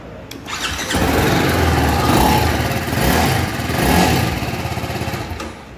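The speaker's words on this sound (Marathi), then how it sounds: "आता मी तुम्हाला गाडीचा साऊंड दाखवून देतो कसा येतो." A 2024 TVS Apache 310RR motorcycle starts up inside a showroom: a brief starter whir, then the engine catches and idles with a deep throb, revved in a few rising and falling swells, close and loud.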